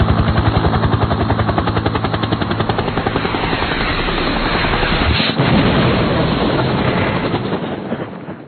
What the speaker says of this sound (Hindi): इसके बाद फिजा में मौजूद हेलीकॉप्टर घूमते हुए नीचे आने लगे।